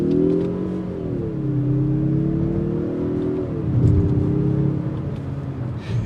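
A 2022 Mazda CX-30 Turbo accelerates hard, with a steady engine drone whose pitch climbs, dips with a gear change, then climbs again, heard clearly from inside the car.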